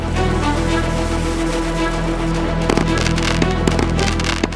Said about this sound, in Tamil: தீபாவளினாலே நமக்கு முதல்ல ஞாபகம் வர்றது இந்த பட்டாசுகள்